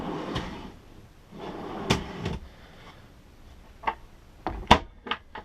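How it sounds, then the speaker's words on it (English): Cabinet drawers and cupboard doors in a 2015 Airstream Interstate Class B touring coach slide and bump shut, a string of sharp wooden clacks and thumps spread unevenly over several seconds, close and fairly loud in a quiet interior. "if you swing the door around all the way, you could open these drawers"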